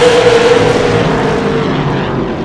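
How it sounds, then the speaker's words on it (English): Super late model race cars with roughly 600-horsepower engines roar around an asphalt speedway, a loud, close engine snarl with a falling tone as the cars pass and fade slightly. "Listen to those horsepower engines."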